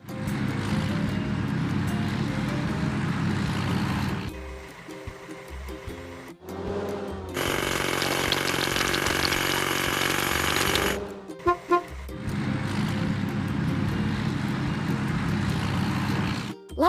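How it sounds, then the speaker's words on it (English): A hydraulic hammer in a children's construction video game pounds rocks with a loud, rapid rattling burst, stopping and restarting amid engine hum and game effects. "Let's wash. Hydraulic hammer."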